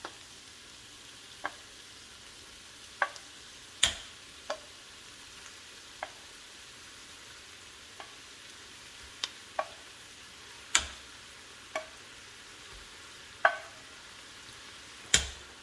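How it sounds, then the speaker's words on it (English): Meatballs for a Salisbury steak dish fry in a pan under a steady low sizzle, broken by scattered sharp pops and ticks at irregular intervals, close and quiet, with no talking. "And now we put in the meatballs."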